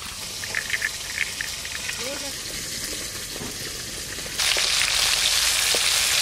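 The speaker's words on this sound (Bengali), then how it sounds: "মাছ ভাজা হয়ে গেছে, তো তুলে নেব।" Fish sizzling as it fries in oil in a kadai, a steady crackling hiss that grows louder and brighter near the end, with a voice talking over it.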